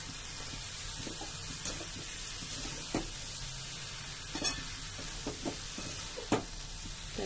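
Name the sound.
stirring fenugreek greens in a pan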